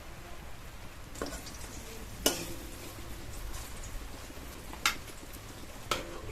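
Egg and cabbage frying in oil in a kadai, a soft steady sizzle punctuated by a few sharp clicks and clacks of utensils against the pan, quiet and close with no talk.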